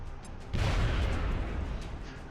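A video game explosion bursts in loudly and close after a brief quiet, then rumbles and slowly fades, with no talking over it.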